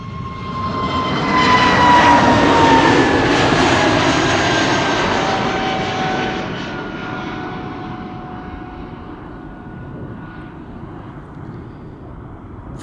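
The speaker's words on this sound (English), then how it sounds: "This is an A320" An Airbus A320, six years old, departs Amsterdam Schiphol with a loud, broad engine roar and whining tones, strongest in the first few seconds and slowly fading as it climbs away.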